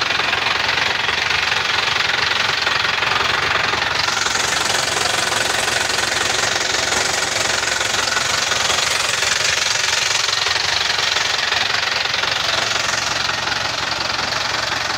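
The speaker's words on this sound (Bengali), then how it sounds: "ইঞ্জিনের খুব নতুনের মতন সাউন্ড" A used 14-foot JAC truck's engine runs steadily and loud for the whole stretch, with a continuous rattling, knocking drone and no talk over it.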